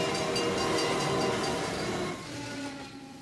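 A commuter train in Israel rumbling past on the rails, with a loud steady roar and rattle of wheels and cars that eases off slightly toward the end.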